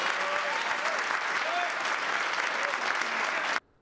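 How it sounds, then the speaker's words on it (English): Enthusiastic applause from a packed, multigenerational audience at a percussion day concert, dense steady clapping that fills the space and then cuts off abruptly near the end. "Their enthusiastic applause was truly heartfelt."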